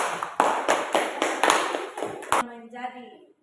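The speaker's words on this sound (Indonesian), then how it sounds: "Dan aplaus untuk Putri" Classroom applause for a student: a short burst of hand clapping, several quick claps close by, fading into silence at the end.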